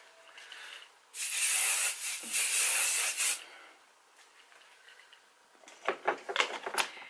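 A steady makeup setting spray hisses for about two seconds, close and fairly loud, followed by faint rustling and a few soft taps.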